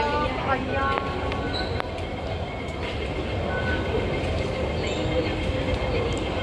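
A Hong Kong MTR train rolls past on rainy day, a steady loud rumble of wheels on rail with faint squeals, continuous throughout.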